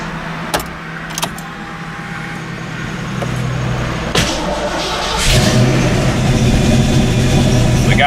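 A Ford Fox Mustang V8, which has cooling and oil pressure problems, starts up after a few clicks and key jangles, then settles into a rough, steady idle close by, rising slightly in loudness near the end.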